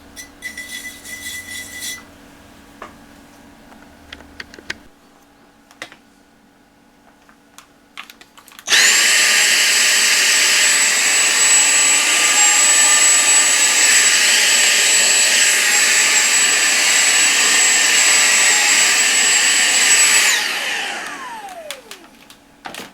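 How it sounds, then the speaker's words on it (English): A vacuum cleaner cleans a Marshall EL34 50/50 power amplifier, starting abruptly after some faint clicks and handling noises, roaring loudly and steadily for about twelve seconds, then shutting off and winding down. "give it a vacuum."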